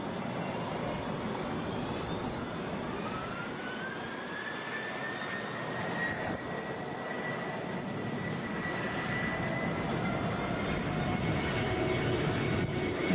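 Jet engines of a Boeing 717 airliner bound for Lexington roar steadily at Atlanta's airport, a moderate distant rumble with a rising whine that sweeps upward midway and holds, no voices over it.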